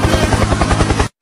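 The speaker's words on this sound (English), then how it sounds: "Helicopter, helicopter, helicopter, helicopter," A helicopter roars loud and close, its rotor beating in steady rhythmic thumps through a dense wash of engine noise, before cutting off abruptly into silence.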